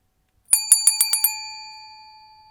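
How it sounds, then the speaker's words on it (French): A bell rung as a section-change cue: six quick, evenly spaced metallic dings, crisp and close, each ringing into a long fading decay before silence. "vous pourrez entendre ce bruit de cloche."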